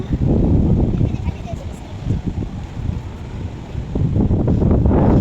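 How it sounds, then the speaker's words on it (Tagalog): Strong wind buffets the microphone in loud, gusty rumbles high up on the OCBC Skyway in Singapore, with a person speaking briefly under the roar. "Wala, ang lakas ng hangin."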